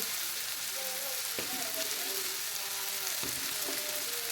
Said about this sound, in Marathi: दोन मिनिट टोमॅटो परतून झाल्यानंतर एक चमचा मीठ घालणार आहे